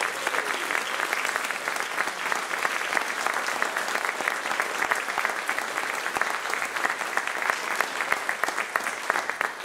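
An audience applauds a brass band, dense continuous clapping that holds steady and fairly loud for the whole stretch without any voices.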